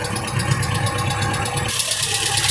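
A Honda CR-V with a freshly installed engine idles steadily and fairly close, a continuous low mechanical hum with a faint ticking texture and no breaks.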